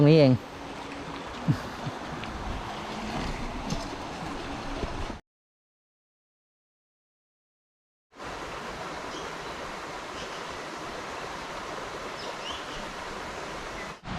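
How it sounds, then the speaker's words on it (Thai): A constant broadband rush of a waterfall beside a riverside campsite in Suan Phueng, Ratchaburi, broken by a few seconds of total silence before the roar resumes unchanged. "นอนฟังเสียงน้ำตกครับคืนนี้"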